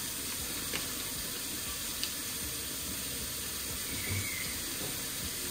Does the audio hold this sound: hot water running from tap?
yes